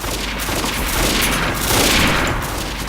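Rapid gunfire rattles continuously in the online shooter game Avatar Star, a loud dense fusillade of shots with bursts overlapping throughout.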